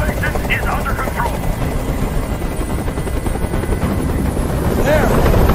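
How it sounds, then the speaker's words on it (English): A helicopter in the video game Detroit: Become Human thrums loudly and steadily throughout, its rotor chop filling the scene under overlapping game sounds, with a faint whistling tone rising near the end. "Tell that helicopter to get out of here!"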